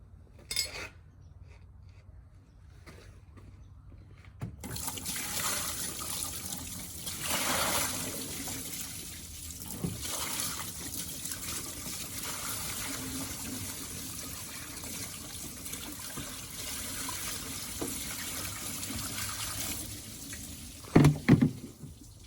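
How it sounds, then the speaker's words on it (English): Water runs and splashes over a corroded car battery tray, a steady rinsing flow that starts after a few quiet seconds and continues with occasional clanks near the end. "let's get some water on this and wash it out"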